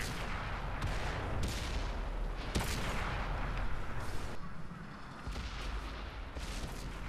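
Tank cannon fire and battle explosions in the video game World of Tanks from an M4A2E4, a dense run of booming shots and rumbling blasts, one sharp loud crack standing out, continuing under a steady wash of noise.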